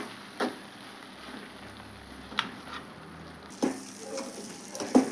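Stuffed eggplant curry fries in oil in a pan, a quiet steady sizzle with a few soft clinks and stirring taps spread across the stretch.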